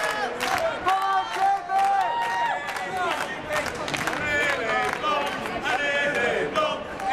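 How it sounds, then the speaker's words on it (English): A French crowd cheers and shouts during a women's doubles foosball final at the 2010 ITSF World Cup, a loud, continuous roar of voices with clapping throughout, close and full. "French crowd starting to get involved."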